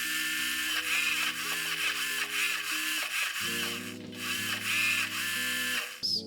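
Electric motors on a hobby combat robot, driven through ESCs by transmitter sticks from a 2-cell battery pack, whir and whine steadily up close, their pitch stepping up and down as the throttle changes, with a faint mechanical ticking underneath.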